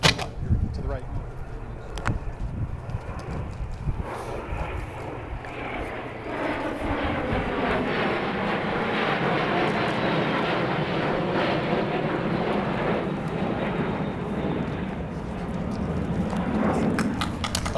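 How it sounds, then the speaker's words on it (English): Loud, sustained jet engine roar building as two F-16 fighter jets pass overhead at an airport opening, with a crowd murmuring and someone speaking underneath the rumble. "those are two United States F-16 fighter jets"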